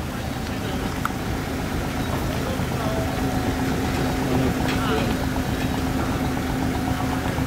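Ferry engine on the Tisza river, a steady low rumbling drone with a faint tonal hum, continuous and moderately distant, with outdoor water ambience around it.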